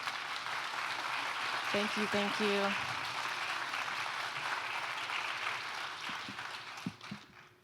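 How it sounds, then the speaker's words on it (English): A conference keynote audience gives a round of applause, a steady broad wash of clapping that fades out near the end, with a speaker briefly saying thanks over it. "Let's give them one more round of applause."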